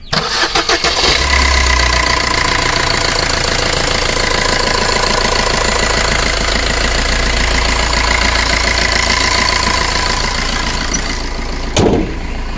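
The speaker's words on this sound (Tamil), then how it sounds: "வண்டியோட இன்ஜின் சவுண்ட் எப்படி இருக்குது அப்படின்றத கேட்போம்" A Maruti Suzuki Swift engine cranks and catches, then settles into a loud, steady idle with a low rumble and faint knocking, cutting off sharply near the end.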